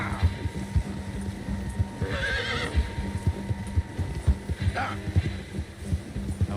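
A horse in the Red Dead Redemption 2 video game, its rhythmic hoofbeats and whinnies running over a low hum.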